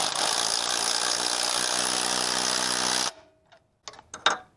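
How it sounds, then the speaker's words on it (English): Impact wrench with a swivel removing the alternator hinge bolt on a Dodge Neon, a loud continuous buzzing hammer for about three seconds that cuts off, followed by a few faint clicks and short metallic taps. "So here we'll get the hinge bolt right now with the impact."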